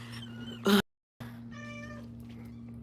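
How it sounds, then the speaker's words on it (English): Small kittens meow in a few short, high-pitched cries nearby, with a steady background hum and a brief silent gap between calls. "Yeah, you hear the little kitties."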